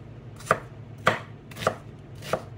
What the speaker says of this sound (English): So you want this chopped very fine.